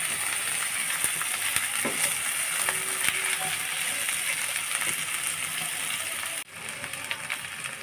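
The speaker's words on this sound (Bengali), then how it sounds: "আর দিয়ে দিব মটরশুঁটি এগুলো দিয়ে আমি ভালোভাবে ভেজে নিব" Green peas fry in a hot pan with green chilies, a steady bright sizzle running throughout with occasional clinks and scrapes of a utensil before the hiss drops slightly near the end.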